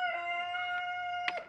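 Chantecler roosters crowd inside a lidded transport container bound for processing, letting out a drawn-out crowing call with a few faint clucks and a brief sharp squawk at the end, fairly quiet and close.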